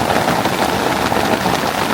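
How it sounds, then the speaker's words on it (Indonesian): Heavy rain pours down at night on a forest campsite on sandy ground, a loud, dense, steady hiss with no gaps and no voices. "hujan lebat."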